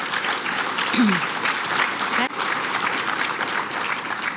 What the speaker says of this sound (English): Could we have a round of applause for our great panelists?